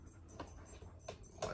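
A dog breathes heavily and pants close to the mic, a few soft breathy bursts over a quiet room.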